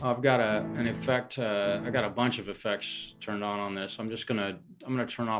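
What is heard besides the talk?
No distinct noise like a dog, phone or traffic.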